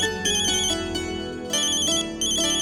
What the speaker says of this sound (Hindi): घर से फोन है,